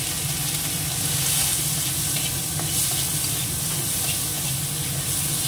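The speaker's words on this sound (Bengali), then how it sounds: "তেলের মধ্যে দিয়ে দেবো একটুখানি জিরে, আর যেটা দেবো এই চিংড়ি মাছটা দিয়ে দেবো" Prawns and cumin seeds fry in hot oil, giving off a loud, continuous sizzle and hiss with faint stirring throughout.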